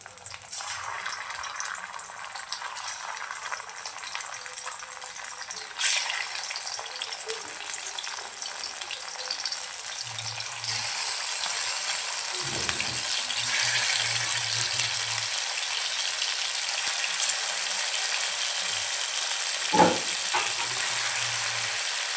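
Mutton pieces frying in hot oil for an Afghani mutton curry, a steady loud sizzle that swells after a few seconds, with brief stirring scrapes and bubbling underneath.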